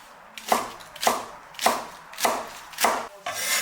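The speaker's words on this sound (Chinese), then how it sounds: "2根清洗干净的香蒜苗， 改刀切小段。" A knife chops washed fresh garlic sprouts into short pieces on a cutting board, with five or six evenly spaced, crisp close thuds and no talking.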